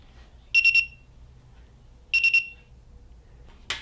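Two short bursts of rapid high-pitched electronic beeps, three beeps each, from an Autool X95 GPS slope inclinometer alarming above 40 degrees, separated by a pause, fairly close and clear over a quiet hum.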